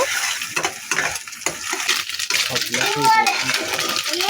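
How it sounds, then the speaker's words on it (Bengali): Beaten egg scrambling in hot oil in a wok, a busy crackling sizzle broken by scraping stirs of a spatula, while a voice talks over much of it. "তো এটাকে আমি ঝুরো ঝুরো করে ভেজে নেব।"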